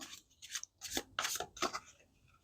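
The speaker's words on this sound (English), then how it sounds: "we'll just do a little bit of a shuffle here" Tarot cards being shuffled by hand in a few short, soft riffling and sliding bursts, quiet and close, with no talking.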